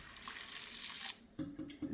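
Two deciliters of water pour into a bowl of dried bread in a brief steady splash, then stop, followed by a few light knocks and clinks of the bowl.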